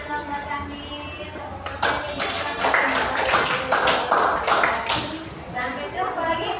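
Primary school class in an Indonesian classroom clapping hands in a short burst of rhythmic claps, fairly close, with a teacher's voice and children's chatter around it.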